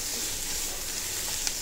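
Onions for paniyaram sautéing in a pan, a steady close hiss of frying with no other sound, over a brief moment.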